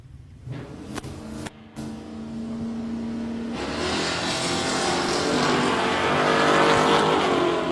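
Holden Torana and a 1986 GTS Monaro launch in a street drag race, with a loud roaring engine building and sustained over several seconds after a brief rev, close and unbroken.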